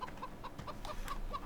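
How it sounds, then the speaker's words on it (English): Chickens cluck in a farmyard in the Farming Simulator 17 video game, several short clucks scattered across a faint, steady ambient background with no talking. "Chickens over here."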